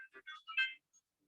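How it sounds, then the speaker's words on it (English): A phone rings for an incoming call, a short burst of bright electronic ringtone tones in quick pulses that stop after under a second, with silence following. "Phone call."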